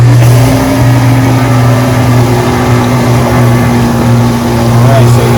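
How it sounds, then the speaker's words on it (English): Decade-old Whirlpool dishwasher motor running with a buzzing fault, a loud continuous low hum with steady tonal drone and faint mechanical rattle underneath, close and constant throughout. "the motor itself doesn't sound too loud"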